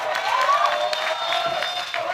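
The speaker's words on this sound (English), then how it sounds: "Let's give our large welcome and a round of applause for Ms. Mallory" Graduation crowd at a Virginia Union University commencement ceremony breaks into applause and cheering, a continuous wash of clapping with a thin whistle-like tone riding over it.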